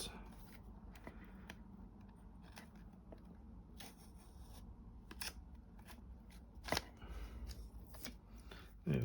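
Wallpaper for a DeAgostini Moomin House model is cut in quiet, close snips and scraping strokes, with a sharper cut near the end and no voices.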